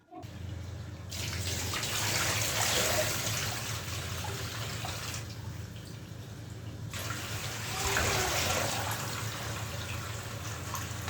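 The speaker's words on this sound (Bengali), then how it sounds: "তো ভাবলাম ডিমগুলো ধুইয়া তারপর রাখি" Eggs are washed under a running kitchen tap, with a steady close rush of water that briefly drops out midway and then resumes, continuing with no voices.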